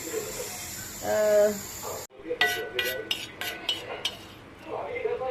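Turmeric being dry-roasted in a pan, a metal spoon scraping and clinking against the pan in a quick series of strokes, close and fairly clear, with someone speaking briefly before and after.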